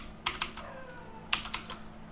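Code being typed on a computer keyboard, two short clusters of crisp key clicks separated by a quiet pause, close and fairly loud, no one talking.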